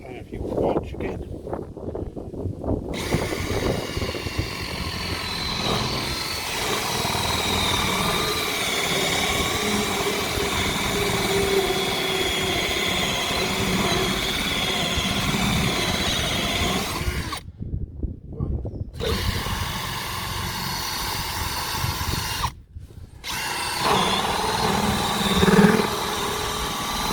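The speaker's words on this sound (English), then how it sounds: "We'll drill this one as well, shall we?" A power drill bores out an old transom fastener on a RIB inflatable boat, a loud, steady grinding whine running for long stretches and stopping briefly twice, with people talking nearby.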